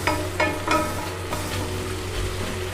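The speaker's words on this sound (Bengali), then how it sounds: "একটু নেড়ে দেব।" Chow mein fries in a rice cooker while a utensil stirs it, giving a few sharp scrapes over a steady background sizzle.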